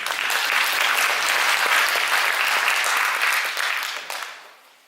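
A church congregation at a Sunday morning service applauds the choir and worship team, giving one sustained round of clapping that swells, holds for a few seconds, then fades out.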